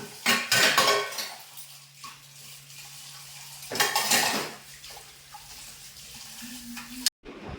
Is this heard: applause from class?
no